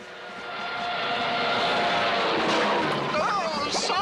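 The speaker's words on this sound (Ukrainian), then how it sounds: "Другим летить сер Аска Тейслі з Англії на коричневому слаучері" A cartoon airplane, a brown racer flown by an English pilot, drones through an air race with a steady, loud engine roar; whistling, swooping tones rise over it near the end.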